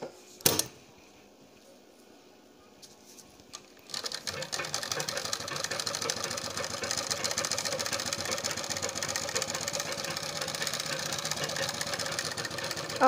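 Sewing machine stitching the neckline of a suit: a soft click or two, then from about four seconds a steady, close, continuous mechanical whir that runs to the end.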